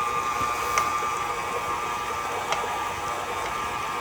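An electric mixer runs at low speed creaming Crisco shortening and flour for a pound cake, a steady whirring motor drone with a faint tonal whine and a couple of light knocks from the beaters against the bowl.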